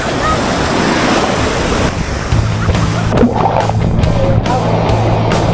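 Ocean waves rush and roar continuously on a Mindoro shore with heavy wind buffeting the microphone, with a low engine-like hum joining partway through.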